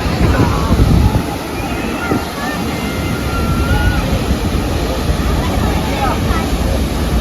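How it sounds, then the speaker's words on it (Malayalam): Heavy water pouring and splashing close to the microphone, a dense steady roar with wind buffeting, continuous throughout with no talk. "ഫുൾ വെള്ളം വീഴുന്നോണ്ടേ ക്യാമറക്കകത്തൊന്നും ഒന്നും കിട്ടുന്നില്ല"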